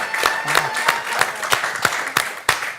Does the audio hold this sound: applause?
yes